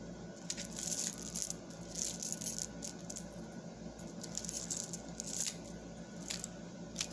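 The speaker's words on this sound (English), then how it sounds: "If you could hear those, you can hear that they sound like glass" Small glass beads from a broken necklace clicking and rattling as they are handled, a steady run of faint close-up ticks with no talk.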